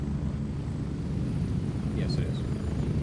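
A helicopter arrives in a video game, heard as a steady low rotor drone throughout, fairly loud and constant, with a couple of faint short chirps near the end.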